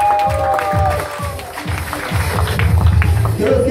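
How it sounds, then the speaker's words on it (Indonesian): Applause from the crowd at an evening event in Johor Bahru, loud sustained clapping over thumping background music with beats, and a few voices mixed in. "Teruskan tepukan anda"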